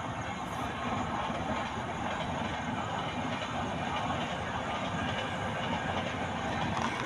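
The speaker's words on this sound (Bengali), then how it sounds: "ট্রেনটা দেখো রাজধানী এক্সপ্রেস ধানবাদ থেকে আসছে এখন ট্রেনটা" The Rajdhani Express from Dhanbad passes close by, a loud continuous rumble of wheels and carriages with rhythmic rattling that holds steady throughout.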